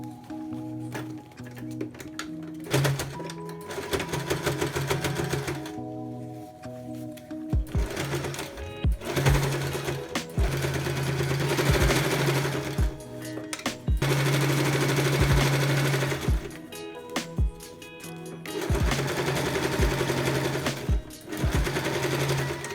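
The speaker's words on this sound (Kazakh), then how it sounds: "Сыртынан тағы бір мәрте басып тігіп шығамыз." A sewing machine stitches a children's winter overall (cocoon-style puffer suit) in repeated bursts of rapid mechanical whirring, separated by short pauses; close and steady with no talk.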